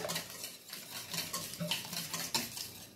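Vanilla being stirred into quick-bread batter ingredients in a bowl, a soft continuous swishing with light clinks of a utensil against the bowl, close and quiet, no voices.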